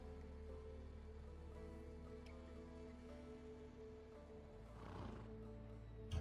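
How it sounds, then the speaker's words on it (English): Fierce horse neighing in the Assassin's Creed Odyssey video game, a single whinny over a quiet ambient bed, with a soft rustle near the end. "I heard the neigh of a fierce horse."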